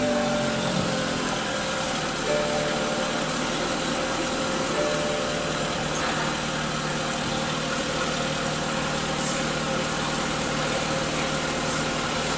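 A 2014 BMW 228i with a 2.0 L four-cylinder turbo engine idles steadily and close by after a push-button start, a smooth, even hum running alone without talk.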